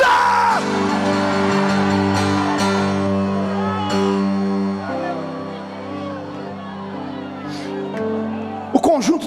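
Church congregation yelling and whooping together on command during a sermon, a loud sustained crowd shout over a held musical chord, fading slightly before a brief burst of louder cries at the end.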